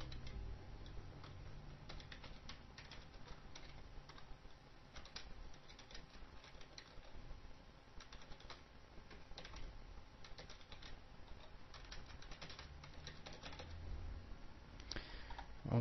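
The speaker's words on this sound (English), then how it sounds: "And just going to type in some text quickly." Steady typing on a computer keyboard, soft rapid key clicks in uneven bursts with a faint background hum and no talking.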